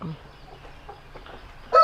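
A ten-month-old rooster, around five kilograms, gives a short cluck at the start, followed by quiet farmyard background and a louder burst at the end.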